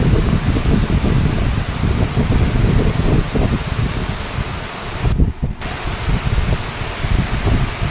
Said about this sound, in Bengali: আজকে মুষলধারে বৃষ্টি হচ্ছে আমাদের এখানে